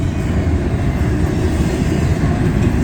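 A westbound CSX intermodal freight train rolls past close by in Bloomdale, Ohio, a loud continuous low rumble with rhythmic thumping from wheels that have flat spots.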